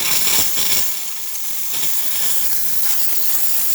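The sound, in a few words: espresso machine steam wand purging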